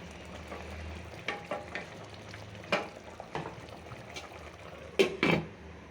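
Prawns frying in a pan on a home stove for a bitter gourd stir-fry, a soft steady sizzle with a few sharper spatters and clinks near the end, no talk.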